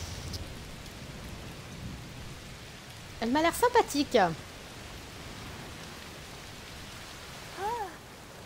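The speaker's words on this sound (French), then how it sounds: "Oh, il pleut très fort." Heavy rain in the video game A Plague Tale: Requiem hisses steadily throughout, with a brief spoken French voice partway through and a short call near the end.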